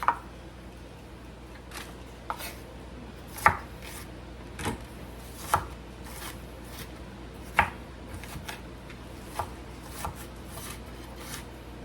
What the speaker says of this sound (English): I'm just going to chop up a little more onion